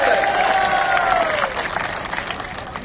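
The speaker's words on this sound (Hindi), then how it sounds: "दोनों हाथों से तालियां बजाकर स्वागत करें।" A crowd at an election rally in Chomu claps in welcome, a steady burst of applause with a tonal whistle-like sweep over it that fades after a second or so.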